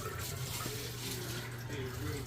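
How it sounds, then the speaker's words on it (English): Water gushing steadily from a newly replaced well pump, a continuous broadband rush with a low hum underneath, loud and close throughout. "There comes the water."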